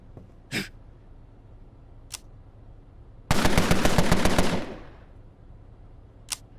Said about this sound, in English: One of them tries to fire at Frank.